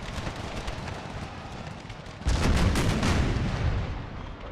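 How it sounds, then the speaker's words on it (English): Howitzer artillery fires in Empire: Total War during a battle, a dense rumbling roar of cannon and gunfire that swells sharply halfway through into louder, closer booms and crackling volleys. "Howitzers fire down on their front lines."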